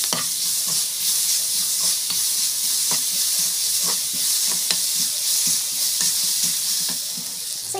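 Mango powder sautés in a pan, a loud, close, steady sizzle with regular spatula scrapes and clicks roughly every half second to second throughout, no speech.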